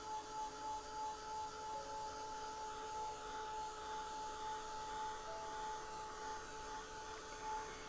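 A hair dryer drying a watercolor painting gives a steady, continuous whoosh of blowing air with a faint motor whine, running unbroken at moderate loudness for the full stretch with no voices over it.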